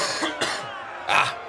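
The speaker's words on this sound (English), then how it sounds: "there's still a cough going on" Three rough, husky coughs from a person with a lingering illness, close to the microphone, spaced irregularly over a second and a half with the last one the loudest.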